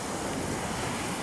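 Steady wash of sea waves and surf along a beach shore in Cagayan, broadband and continuous with wind buffeting the microphone, no voices heard.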